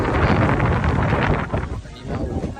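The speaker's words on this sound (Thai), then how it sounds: "เฮ้ยวันนี้ลมดีมากเลยอะ ลมดีมากเลยอะ" Strong wind blows across a roadside shack stall where a car is parked, a steady broadband roar buffeting the microphone that eases briefly near the end before gusting again.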